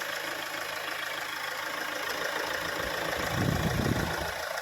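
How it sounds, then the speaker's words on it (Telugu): A 2015 Mahindra XUV500 W8 engine idling smoothly, a steady low hum throughout with a slightly louder swell of low rumble near the end; no talk. "ఇంజన్ కూడా చాలా అంటే చాలా స్మూత్గా ఉందండి"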